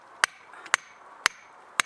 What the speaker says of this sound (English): club hammer and my nice long spike here